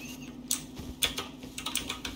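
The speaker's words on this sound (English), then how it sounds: "your keyboard is very loud" Quick, clicky computer keyboard typing sounds close up in short uneven bursts over a low steady hum during an online Rust game session.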